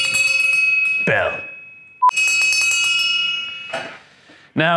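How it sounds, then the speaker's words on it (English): A summoning bell announces freshly brewed Moccamaster coffee in an office, rung twice with bright ringing tones that decay slowly, then someone speaks. "We've developed a simpler method here, using the summoning bell."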